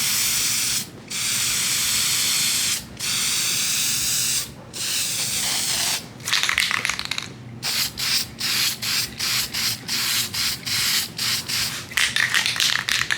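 Paint sprays onto an interior piece as a first coat: loud hissing bursts, at first long passes with brief gaps, then a run of short rapid spurts, heard close up with no speech.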